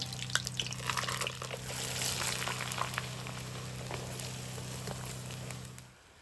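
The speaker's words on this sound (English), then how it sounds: "Let me cook some French fries now." French fries dropped into very hot oil, a bubbling, crackling fry with a steady low hum underneath, moderately close, cutting off abruptly near the end.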